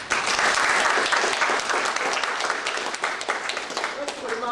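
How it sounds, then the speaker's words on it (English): A meeting audience of delegates breaks into a round of applause, many hands clapping in a dense, steady burst that slowly thins toward the end, with some voices mixed in. "So I think we should get Alan a round of applause."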